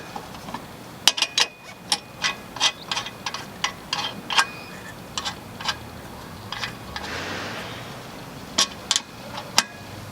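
Lug wrench tightening tire lug nuts while changing a flat, a close series of sharp metallic ratcheting clicks in irregular bursts with short gaps.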